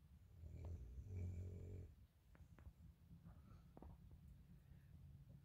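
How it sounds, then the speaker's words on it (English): A person sleeping on the floor of a bell tent at a campout snores with a deep, rumbling breath, quiet and close, followed by softer breathing and small shuffling noises. "She doesn't know she snores."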